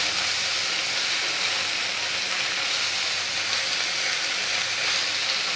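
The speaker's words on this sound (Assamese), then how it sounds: "গেছৰ ফ্লেমটো এতিয়া বঢ়াই দিছোঁ, যিহেতু পিঁয়াজখিনি ৰঙচুৱা হ'লেকৈ ভাজিম" Chopped onions fry in a pan over a turned-up gas flame for a broiler chicken dish, giving a steady, close, even sizzle and hiss that runs unbroken throughout with no talking.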